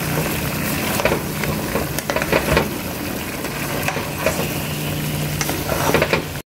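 Cauliflower and potato fry and get stirred in a hot pan for a Bengali mixed-vegetable dish: a steady, close sizzle broken by repeated scrapes and knocks of the spatula against the pan, with no talking.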